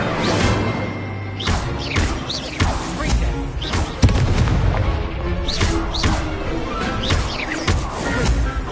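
Incendio fire spell cast in the Hogwarts Legacy video game amid loud, dense combat effects: repeated booming blasts, crashes and whooshing bursts layered closely over several seconds, with no pause between impacts.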